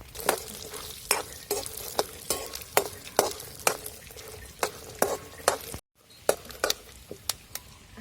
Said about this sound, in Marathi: आपल्याला मिरची आणि लसूण पण त्याच्यातच टाकायचं आणि चांगलं तळून घ्यायची